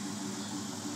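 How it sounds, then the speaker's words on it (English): A 2004 Mustang GT with an off-road H-pipe and stock mufflers idles steadily, a deep even exhaust rumble that holds constant and close with no voices. "This is it idling."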